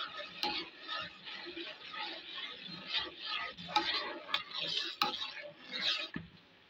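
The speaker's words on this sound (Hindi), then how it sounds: "कस्टर्ड पाउडर शामिल करके हम इसके अंदर मुसलसल चम्मच चलाते रहेंगे" A spoon stirs custard powder into boiled milk in a pot, giving soft, irregular scraping and swishing strokes with occasional light clinks against the side, quiet and close.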